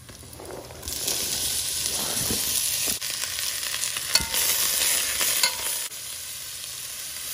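Sliced onions sizzle steadily in a hot pan for a Kerala-style tender jackfruit and chicken dish, with repeated scraping stirs cutting through the constant frying hiss, close and fairly loud.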